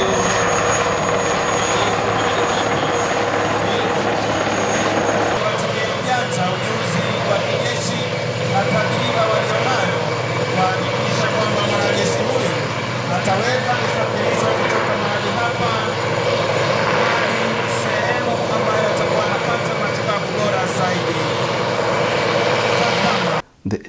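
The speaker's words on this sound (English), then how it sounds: "The air show was led by Kenya Air Force and showed displays by both military and civilian aerobatic capabilities" Kenya Air Force aircraft fly at the 2022 KDF Museum Airshow at Uhuru Gardens, Nairobi. A continuous loud engine drone fills the whole stretch while a narrator speaks over it.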